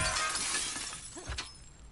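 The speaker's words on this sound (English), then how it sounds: "Breaking glass, cause I can" Glass shatters in The Last of Us Part II, a bright crash of breaking panes that rings out and thins away, followed near the end by a second smaller impact with tinkling shards, with no talking.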